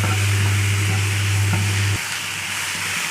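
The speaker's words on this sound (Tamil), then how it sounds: "இப்போது தக்காளியை சேர்த்துப்போம். இதுவும் நல்லா வதங்கணும்." Tomatoes sizzle and fry steadily in a pan while being sautéed for butter mushroom masala, with a continuous close hiss and a low hum that drops away near the end.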